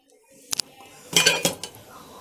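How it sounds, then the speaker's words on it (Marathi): A metal ladle clinks and scrapes against a deep iron pan as oil goes in to cook amaranth greens: a couple of quick knocks, then a louder cluster of clanks close by, with no talk. "आणि यामध्ये मी आता 2 पळ्या तेल टाकणार आहे"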